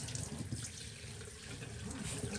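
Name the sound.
water rinsing shampoo off a dog during a bath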